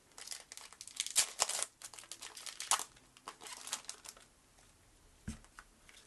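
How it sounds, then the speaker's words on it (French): A Naruto Kayou trading card booster pack being torn open, with close, crisp bursts of foil crinkling and ripping that fade to quieter handling and a single soft tap near the end. "Si le booster veut bien s'ouvrir"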